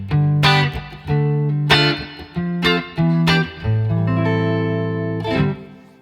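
Clean electric guitar played through a Fender Deluxe Reverb amp, sounding alone as a loud, sustained series of plucked chords and notes with ringing decay.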